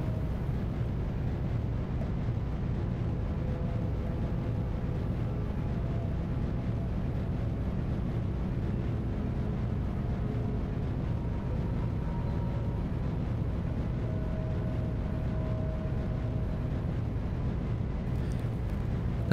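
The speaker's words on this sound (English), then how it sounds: "As we get closer to the moon's surface, we kick in our engines to slow us down." Spacecraft engines fire to slow a descent toward the moon's surface in Kerbal Space Program, giving a steady, even rocket roar that holds unchanged throughout with no speech over it.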